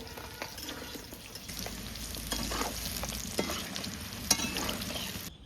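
Eggplant slices frying in a pan of oil at home, a steady close sizzle with occasional stirring scrapes and clatter throughout, with no voices.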